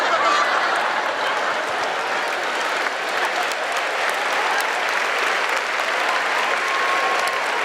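A congregation applauds during a church sermon: loud, dense, continuous clapping that fills the room evenly from start to finish, with no break.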